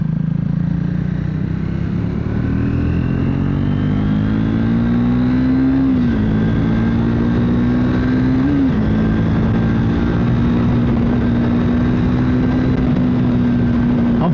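Triumph Modern Classics motorcycle held at full throttle, its loud steady engine drone close by for the whole stretch, dipping briefly twice as the pitch shifts before settling back into a sustained high roar.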